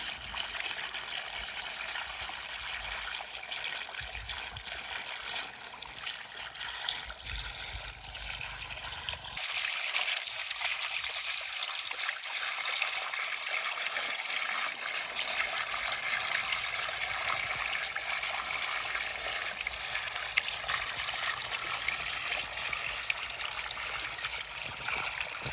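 Water runs steadily from a backyard pond waterfall and spills over placed rocks, a continuous close trickling and splashing wash with no voices.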